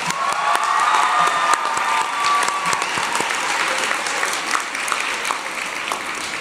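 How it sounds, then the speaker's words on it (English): Sustained crowd applause at a teen press conference for authors, broad steady clapping with a few cheers and whistle tones early on, holding at an even level throughout. "Give a round of applause"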